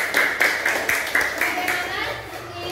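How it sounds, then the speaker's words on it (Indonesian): A small classroom group claps for the Anggrek team, about seven or eight distinct hand claps in a loose rhythm, fairly close, with a voice and chatter underneath. "Beri tepuk tangan buat kelompok anggrek."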